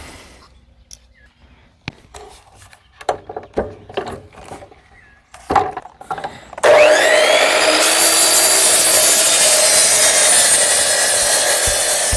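A power saw cuts a 45-degree angle into a wooden 4x4 mailbox post, starting after some scattered handling knocks and then roaring loud and steady for several seconds.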